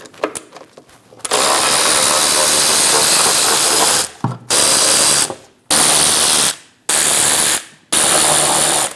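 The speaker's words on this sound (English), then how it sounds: "Using a 15mm socket, remove the 5 bolts for the shield." A 15mm socket on a power tool or ratchet removes the shield bolts on a 2001-2006 Chevrolet Silverado 2500 HD with an 8.1L V8. It whirs loudly in several close bursts separated by short pauses, with no talking.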